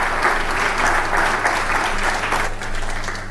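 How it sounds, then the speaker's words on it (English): Audience in a large hall applauding the host president, Uhuru Kenyatta, at a presidents' summit, a sustained even burst of clapping with a steady hum beneath. "round of applause for the host president"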